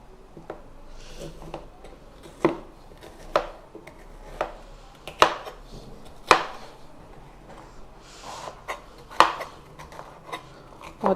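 A knife chops bell pepper into julienne strips on a board, with sharp, irregular close taps spaced a second or so apart.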